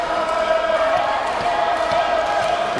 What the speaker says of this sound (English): you can hear the home crowd is happy with that